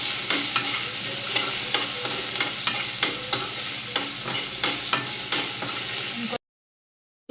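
Potatoes fry in a pan for a fasting-day sabudana khichdi, a constant close sizzle cut by regular scraping stirs about every half second, then everything stops abruptly into silence.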